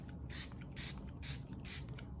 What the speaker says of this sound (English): I sprayed a little bit more.